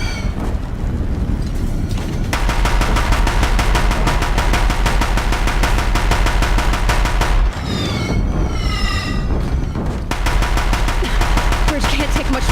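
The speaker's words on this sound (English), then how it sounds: "If the Deathbringers keep firing, this bridge will go." Deathbringer war machines in Horizon Zero Dawn unleash relentless rapid machine-gun fire at a bridge. The barrage is loud and sustained for most of the clip, with a brief break, a burst of whooshing and whistling projectiles, then more firing.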